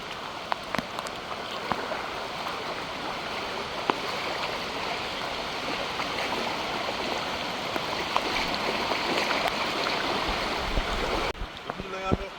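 Floodwater rushing over a main road after Hurricane Melissa, a steady broad wash of flowing water, fairly loud and continuous, with faint voices.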